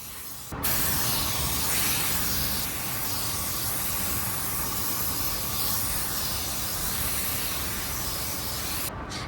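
A spray gun lays a first coverage coat of paint in a spray booth, kept a little less wet than usual. Its loud, steady hiss starts abruptly, runs continuously for several seconds, and cuts off at the end.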